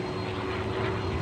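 A P-40 Warhawk flies at an airshow, giving a steady, droning piston-engine roar with a constant hum, loud and continuous, with no voices.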